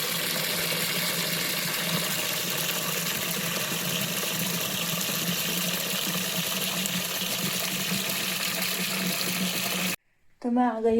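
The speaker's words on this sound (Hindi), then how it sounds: "यहाँ पे हमारे पानी का नल।" Water from an outdoor tap beside a house runs in a steady, close, continuous gush, then cuts off abruptly near the end, followed by a few faint sounds.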